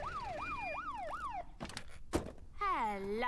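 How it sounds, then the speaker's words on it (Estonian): A cartoon police car siren wails in a rapid rising-and-falling pattern in Peppa Pig, followed by a couple of thumps and a second, swooping siren tone, loud and close. "Siit tulebki politseiauto."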